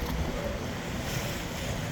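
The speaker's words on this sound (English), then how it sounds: "the way the boat cuts through the water" Ocean water rushes and hisses steadily as a boat cuts through it off Hawaii, with wind buffeting the microphone in a dense, continuous wash of surf noise.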